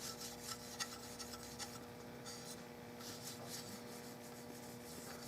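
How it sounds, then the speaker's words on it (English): Finish on a Marlin 336 rifle stock rubbed out by hand, giving a quiet, steady, rhythmic rasping and rubbing against a constant low background hum. "I don't know of another way to get it except just rubbing it out."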